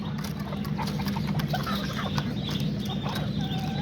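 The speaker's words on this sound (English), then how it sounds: "there's all these chickens right here" Flock of Azteca and Serama roosters and hens clucking and chirping in their pens, a continuous busy mix of soft clucks and calls over a low steady hum, near and moderately loud.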